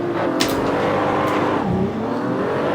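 A race car engine revs hard at the start of a race in the Assetto Corsa racing game, a loud continuous roar with rising and falling pitch sweeps and a brief squeal-like burst, no talking.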